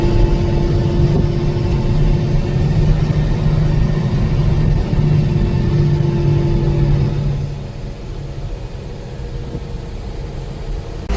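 A car engine rumbles steadily and loudly while descending a mountain ghat road, a low continuous drone that drops slightly in level toward the end, with no talking.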